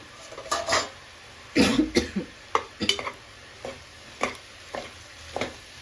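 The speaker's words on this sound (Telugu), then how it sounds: "ఫ్రై చేసి పెట్టుకున్న ఎగ్ ఇప్పుడు హై ఫ్లేమ్లో పెట్టుకుని ఒక టూ త్రీ మినిట్స్ మనం బాగా మిక్స్ చేసుకోవాలి" A spoon scrapes and clatters as pre-fried egg is tossed through noodles in a pan over high flame, a series of sharp irregular knocks and scrapes with brief pauses, close and fairly loud, over a faint sizzle.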